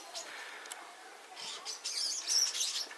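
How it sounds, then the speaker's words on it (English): Starlings feeding outdoors, giving a busy mix of high chirps and squabbling calls that build louder toward the end, heard at a moderate distance. "Those noisy critters are called starlings that you can hear, and they're eating."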